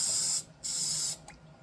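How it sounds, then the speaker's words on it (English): Two close, steady hisses of hairspray coat the foliage of a model bush for a slot car track, with a short pause between the bursts. "what I do is I spray the bush"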